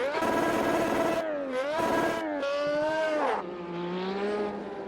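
Turbocharged Formula 1 car in the racing game Automobilista 2, its engine loud and close, rising through the revs in several gear pulls with pitch dips between shifts.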